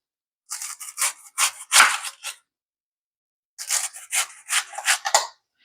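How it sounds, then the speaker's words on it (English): A knife slices through cabbage on a board in two bursts of rapid, crisp chopping strokes, separated by a short pause, close and fairly loud with no talking. "So now I'm just going to cut up my cabbage."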